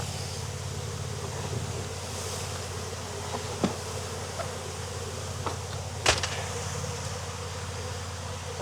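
Honeybees drone during a hive inspection in Jacksonville, Florida, a steady broad hum with wind-like noise and a few faint clicks and knocks, with no voices.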